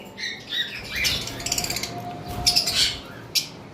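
Savelet lovebird pair chirping close by, a quick run of short high tweets and squeaky calls in bursts, with a few sharper squawks mixed in.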